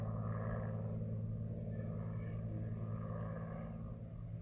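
Agricultural airplane approaching the runway to land at dawn, a steady distant propeller-engine drone with low rumble holding through the whole stretch, no talk over it.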